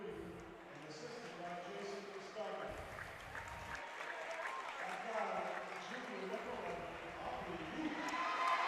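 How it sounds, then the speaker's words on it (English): Basketball crowd at a varsity high school game in a gym giving the officials a steady hand, with scattered applause and murmuring voices throughout, swelling slightly louder toward the end. "they're giving the officials a nice hand"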